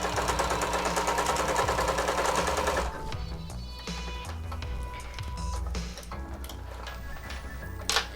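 Sewing machine stitching underbust straps onto a harness closure rattles in a fast, dense run of needle ticks, then slows to looser, intermittent stitching with small clicks, close by and with no talking.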